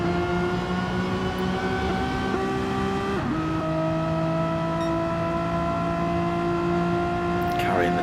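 Renault Megane Trophy race cars in a sim racing game at Willow Springs, engines droning loud and steady with a pitch drop partway through as a car shifts or brakes, while a commentator talks over it.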